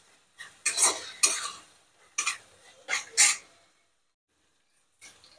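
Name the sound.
sautéing masala in a pan for paneer masala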